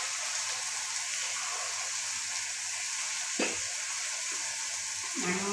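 Hakka noodles stir-frying in a pan just after soy sauce goes in: a steady, close hiss of sizzling with a couple of sharp scraping stirs near the end, no talking.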